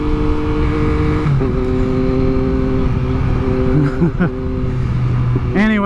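A motorcycle engine rumbles steadily with a deep, throaty exhaust, its pitch rising and dipping in short revs, while people talk nearby.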